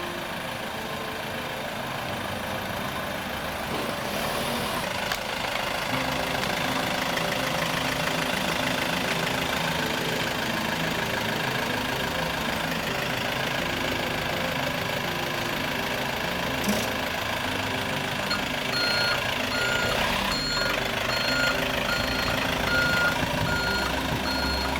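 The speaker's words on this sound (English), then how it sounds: "we're going to drive the little flatbed truck on here" A small flatbed truck carrying two pallets of porcelain paving product, over three tons, idles and drives onto porcelain paving, its steady engine drone running the whole way with repeated reversing beeps and no talk.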